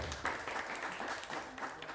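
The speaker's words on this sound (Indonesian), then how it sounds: "tepuk tangan dulu untuk kita semuanya ya" Audience applause at a motivational talk, a steady wash of many hands clapping at moderate volume throughout, somewhat distant and without clear individual claps.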